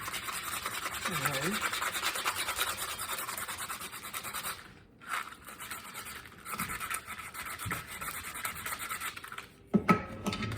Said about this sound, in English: And then I'll do a little sanding